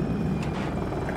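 Rotor of an attack helicopter in a combat video game, a steady loud low thrum with no breaks.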